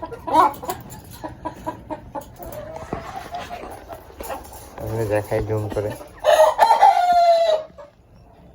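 Egyptian Fayoumi and local desi hens on a backyard farm, clucking and squawking loudly with a rooster crowing near the end, a dog barking in the mix, and someone speaking briefly over the birds.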